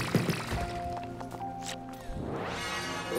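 Resources being collected in Dome Keeper, soft little clicks and chimes over tonal game music, ending in a rising synth sweep.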